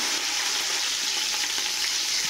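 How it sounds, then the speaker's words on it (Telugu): Onions fry in a pan for pulao with a steady, close, bright sizzle and faint crackles, continuous and unaccompanied by talk. "ఆనియన్స్ ఫ్రై అవ్వాలి బాగా"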